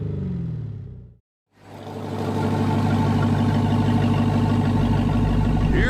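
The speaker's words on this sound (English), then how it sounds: "Give your ride that gasser sound it deserves." Gasser drag car engine rumbling loud and steady, a deep low exhaust drone that cuts out briefly, then swells back to a sustained roar.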